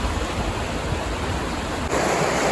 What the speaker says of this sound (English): it's flowing like it is because obviously all the locks have been taken out